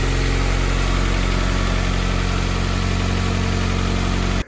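The B20B engine of a 1999 JDM Honda CR-V runs loudly and steadily up close with a constant droning rumble, cutting off abruptly at the very end.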